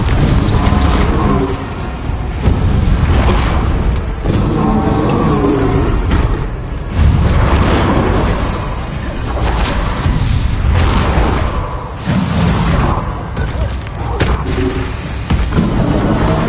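Spell blasts detonate in the wizarding action game Hogwarts Legacy, loud booming impacts layered over a constant dense roar of combat effects, with no talking.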